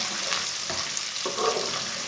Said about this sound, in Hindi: 1 ब्रीक कटा हुआ प्याज डाल लेंगे। प्याज को हल्का सा ब्राउन कर लेंगे।